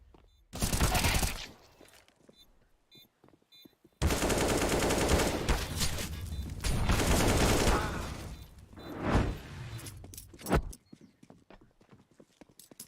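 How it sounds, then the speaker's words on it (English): Bursts of rapid gunfire from a CS:GO esports match, loud clattering volleys broken by short pauses and a few isolated shots near the end. "One tap from Dobbo there. Didn't realize he got it done with one bullet."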